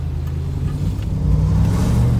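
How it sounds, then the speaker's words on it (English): A Triumph Stag engine running while the car is driven, a steady low rumble from inside the cabin that swells slightly toward the end. "The engine sounds pretty good."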